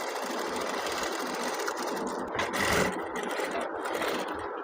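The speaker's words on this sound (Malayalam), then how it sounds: "നമുക്ക് സ്റ്റിച്ച് ചെയ്യാം." A sewing machine stitches a Peter Pan collar for a child's garment, running in a steady, continuous close whir with a brief surge in the middle and no speech.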